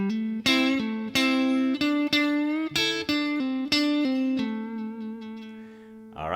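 Electric guitar plays a lick from a solo, a run of clear, distinct sustained notes with hammer-ons and a double stop, ending on one long ringing note, heard alone and up close.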